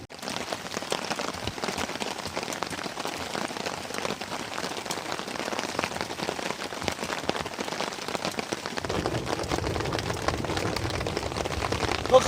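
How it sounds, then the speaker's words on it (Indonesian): Heavy rain pours steadily through a misty pine forest, a dense continuous hiss of drops on surfaces that grows fuller and heavier toward the end, with no voices. "ini hujannya masih besar"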